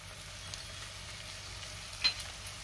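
Onion sautéing in oil with ginger and garlic for paneer pav bhaji gives a faint, steady sizzle, with one brief clink of a utensil near the end and no talking.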